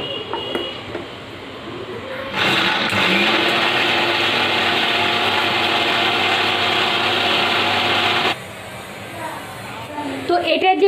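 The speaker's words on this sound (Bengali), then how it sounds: "আমি এবার পেঁয়াজটা এই ব্লেন্ডারের মধ্যে দিয়ে আমি ব্লেন্ড করবো" An electric kitchen blender whirs on onion to make onion juice, a loud, steady motor drone that runs for about six seconds and then cuts off abruptly. Someone speaks before and after it.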